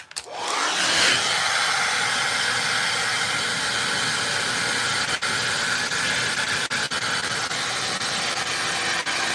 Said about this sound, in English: I'm going to heat it up with the hairdryer again,